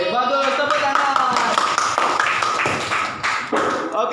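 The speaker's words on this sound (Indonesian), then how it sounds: "Bagus, tepuk tangan." A classroom of pupils claps together in a brisk burst of taps, loud and close, with children's voices talking and calling out over the clapping throughout.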